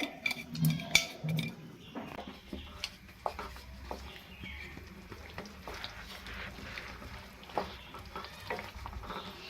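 Raw mango chutney bubbling in a pan while being stirred, giving soft irregular scrapes and clicks with faint sizzling throughout, close and fairly quiet, no talking.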